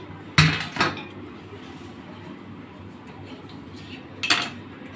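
A greased metal baking tray is handled in a home kitchen: a sharp metallic clatter and scrape at the start, a quieter lull, then another clanking knock near the end, fairly close.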